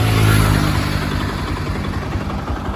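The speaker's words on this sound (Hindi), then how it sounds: "आपको चालू करके सुनाता हूँ इंजन साउंड।" A Bajaj Pulsar 200 motorcycle engine idles steadily up close, a continuous low mechanical hum with a light clutch clatter and a slight rise at the start.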